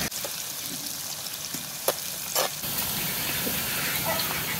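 Onions browning in a pan of oil for chicken arbi, a steady broadband sizzle with a few sharp clicks and stirring knocks, close and alone without speech.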